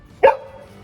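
A dog gives a single short, sharp bark at close range, and the sound fades quickly into quiet.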